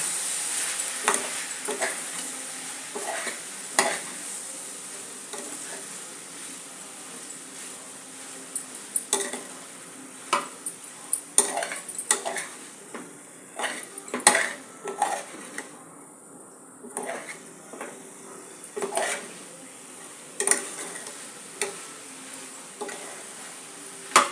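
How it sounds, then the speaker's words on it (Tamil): Cauliflower, potato and capsicum pulao being stirred in a pan, with repeated scrapes and clinks of a ladle against metal spread irregularly over a long stretch, close and clear with no talking. "எல்லாத்தையும் நல்லா கிளறி போட்டுலாம்"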